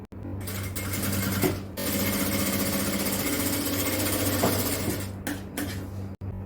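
A sewing machine stitches an XL jalabiya in a tailoring shop with a steady, fast mechanical whir. It pauses briefly near the start and again near the end, and a sharp click falls just before it stops.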